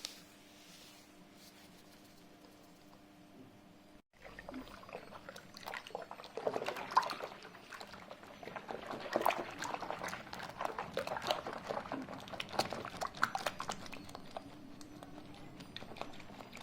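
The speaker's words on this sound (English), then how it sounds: "and then give it a good stir." Nottingham yeast is stirred into Coopers Australian Pale Ale wort, a quiet lull giving way to continuous sloshing, swirling liquid and light knocks against the fermenter, close and steady.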